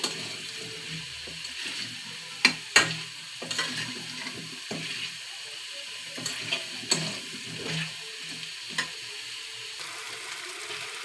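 Small cut potato pieces frying and being stirred in a pan for a dhoka dish, a soft steady sizzle broken by scattered sharp clinks and scrapes of the spoon, fairly quiet with no talking.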